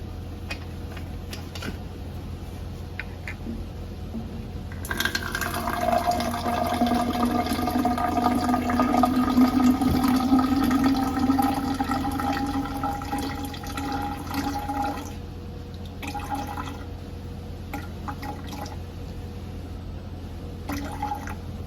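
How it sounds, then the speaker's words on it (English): About 250 millilitres of TAE buffer solution pours into a graduated cylinder at a lab bench. A steady liquid rush runs for roughly ten seconds, then tapers off into quieter trickles, with no voices. "we're just going to go ahead and pour out 250 milliliters, which is right here, of the TAE solution"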